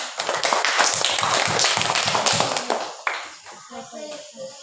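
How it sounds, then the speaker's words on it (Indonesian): A crowd of people applauding together, dense steady clapping for about three seconds that then fades into scattered claps and a few voices. "Kasih tepuk tangan dulu untuk teman."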